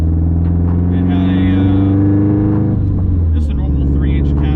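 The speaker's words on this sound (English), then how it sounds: "This car's not horribly loud, but it definitely has its own unique sound." A Mustang running a Subaru STI engine through a custom-fabricated 4-inch aluminum exhaust gives a loud, steady low engine drone that holds throughout and eases slightly partway through, with people talking over it.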